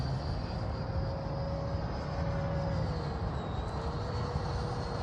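A Freewing 90mm DH-112 Venom electric ducted-fan RC jet flies overhead with a steady, smooth whooshing hum and a faint whine that slowly shifts in pitch, heard alone at moderate distance.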